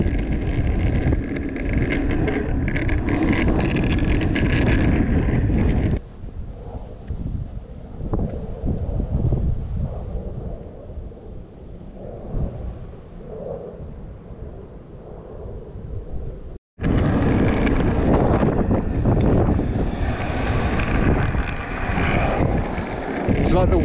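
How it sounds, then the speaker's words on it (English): Strong wind buffets the microphone in loud roaring gusts, easing to a quieter stretch midway before blasting back in full force. "Sure is windy."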